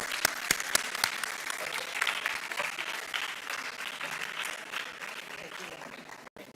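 An audience at a youth entrepreneurship run-up event at KIIT in Odisha applauds steadily, dense clapping with some cheering filling the room, with a few sharp louder claps near the start before the applause trails off at the end.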